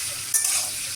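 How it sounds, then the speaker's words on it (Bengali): Potato and jackfruit seeds fry in oil with a bright, close sizzle and sharp stirring scrapes that break through twice, with no voices. "একটু নুন অ্যাড করে আমরা ভাজাটা করে নিচ্ছি। আলু আর কাঁঠাল বীজ"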